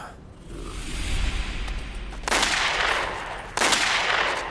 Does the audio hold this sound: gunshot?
yes